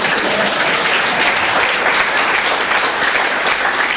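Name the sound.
congregation clapping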